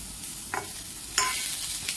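Crushed garlic fries in a pan with a soft, steady sizzle, broken by a few sharp stirring scrapes and clinks close by.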